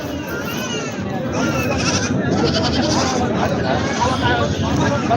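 Goats bleat amid a loud, crowded babble of voices and general market noise at a goat market in Purna taluka, the animal calls rising over the steady hubbub.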